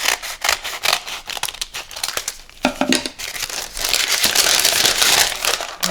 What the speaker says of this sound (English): I just basically fold it into triangles and then just cut.